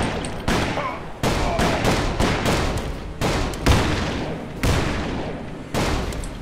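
Loud, close gunfire in the Call of Juarez video game, with a rapid series of heavy shots and booming reports that each cut off sharply, bursting repeatedly over several seconds.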